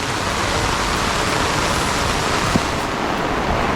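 Torrential Konkan monsoon rain and a flooded river make a steady, close roar of rushing water, with one tiny knock partway through.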